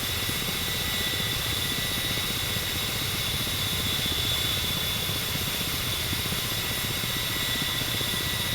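A Ka-50 helicopter hovers in the DCS flight simulator game, giving a steady, loud turbine whine and rotor drone that holds evenly throughout with no talk.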